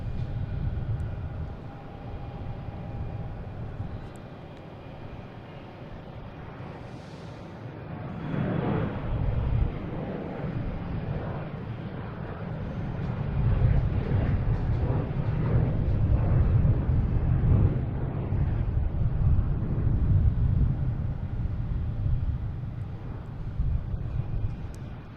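A Delta airliner, flight 5666 to Reagan, departs Boston Logan with a distant low engine rumble that builds into a louder, sustained roar over the second half.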